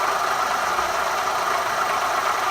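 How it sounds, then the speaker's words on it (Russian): A Toyota Vitz KSP90 with a 1KR-FE engine idles steadily while its worn original water pump gives off a knocking noise, blended into a continuous, even engine hum with no talking. "на данный момент слышим стук. Стук этот из-за того, что вот она родная помпа."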